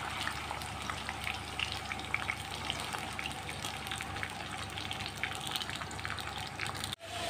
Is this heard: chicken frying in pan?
yes